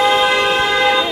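A car horn blares in one loud, steady, continuous toot lasting about a second, close by and with no other sound over it.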